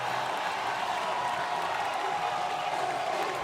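A frenzied stadium crowd roars steadily at the Michigan vs Oklahoma college football game, a constant distant wash of cheering with no clear breaks.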